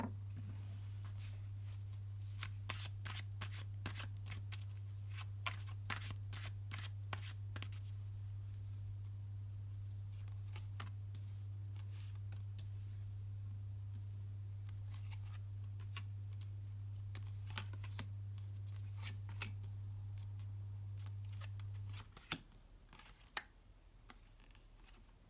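Tarot cards are shuffled by hand in soft, irregular bursts of riffling and tapping over a steady low hum that stops near the end.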